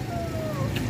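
A cat gives a brief meow, heard close over a low engine-like background hum.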